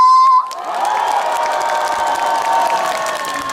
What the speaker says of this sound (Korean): 좋다 생각하시는 분들 다 같이 박수 함성